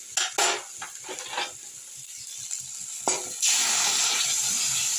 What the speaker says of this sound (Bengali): ডালটাকে কড়ার মধ্যে দিয়ে দিলাম